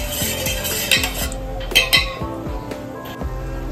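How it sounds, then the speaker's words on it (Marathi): Metal clinks and scrapes at a pot of cooking dry prawns (suki kolambi), with a few sharp clanks close by over a steady kitchen hiss. "आता झाकण काढलंय, थोडी शिजली तशी."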